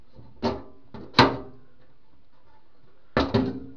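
Motor access panel under a table saw being unhooked and opened, a few close, sharp metallic clunks and knocks separated by pauses, with two quick clacks near the end.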